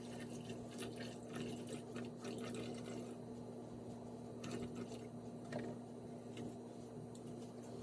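Water is poured into a sourdough starter alongside bread flour, measured out at 60 grams. The trickle is faint and steady against a constant low hum, with no one talking.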